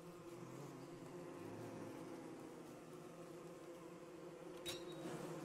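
The Bee Queen boss in the video game Don't Starve Together gives off a steady, droning insect buzz that carries unbroken through the whole stretch, with a faint click near the end.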